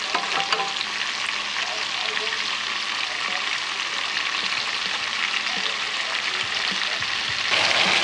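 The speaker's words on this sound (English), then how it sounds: "you hear that sizzle?" Loud, steady crackling sizzle of steak pan-searing in a frying pan, fat rendering, with a kitchen fan humming beneath it and the sizzle flaring briefly near the end.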